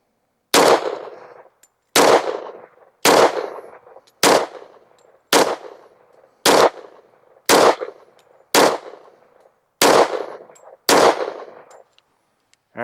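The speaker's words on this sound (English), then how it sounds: "we got 10 more rounds of the Hex. Hollow points loaded up. Let's shoot a group at the bottom right target." Ten loud, sharp shots from a Smith & Wesson M&P pistol fitted with an Apex trigger, firing hollow point rounds at a range target, spaced about a second apart in a steady rhythm with short decays between.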